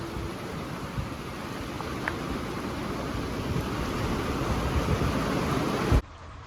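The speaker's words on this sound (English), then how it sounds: "getting pretty much rain now. Lighter, still coming down pretty good" Steady rain keeps falling after passing storms on a farm, a dense even hiss that holds close and fairly loud until it cuts off abruptly near the end.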